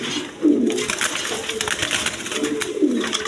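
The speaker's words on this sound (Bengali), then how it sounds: "এখানে আরেক পেয়ার রেশার কবুতর আছে" Racer pigeons in a loft, giving two close, low throaty coos separated by a couple of seconds, with soft rustling between them and no talk.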